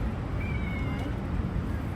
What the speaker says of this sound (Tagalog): May isa pa palang pusa.